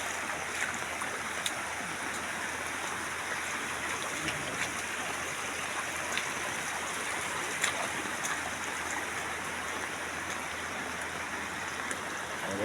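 A stream flows in a steady, hissing rush that fills the space evenly, with faint scattered ticks and drips on top. There is no talk over it.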